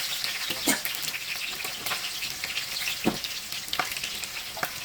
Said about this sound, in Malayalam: ആ ഫ്രൈ ആക്കിയ ഉള്ളിയിൽ നമുക്ക് കുറച്ച് വെളുത്തുള്ളി ഇട്ട് കൊടുക്കാം